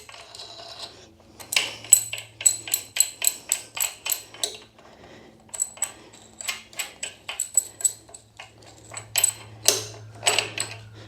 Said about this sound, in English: We'll get this loosened up and see if we can slide that out.